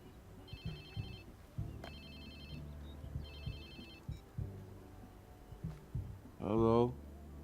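A phone rings in the Watch Dogs 2 video game, an electronic ringtone repeating in short bursts while background game sounds and a brief voice are heard.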